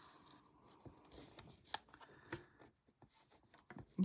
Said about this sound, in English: Just cutting those little bits of card down